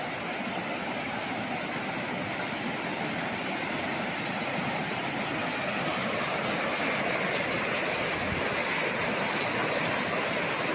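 River current rushing past a riverside resort cottage in Cavinti, Laguna, as a loud, unbroken broadband wash of flowing water that holds steady throughout.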